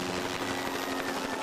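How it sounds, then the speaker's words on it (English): A helicopter delivers the game ball before a college football game, heard as a steady, dense rotor throb at moderate distance with no voices. "Before the game, a helicopter drives home the significance of the matchup."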